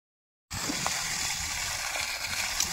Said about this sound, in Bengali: এখানে এখন জলসেচ চলছে।